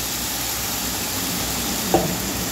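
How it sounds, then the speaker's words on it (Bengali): Turmeric goes into a hot pan and gets stirred, giving a steady, close, fairly loud sizzle with one brief scrape of the spoon; no speech. "আমি এখানে হলুদটাও দিয়ে দিলাম, দিয়ে একটু নাড়াচাড়া করে নেব।"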